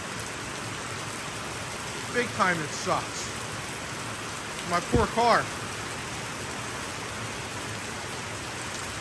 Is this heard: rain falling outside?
yes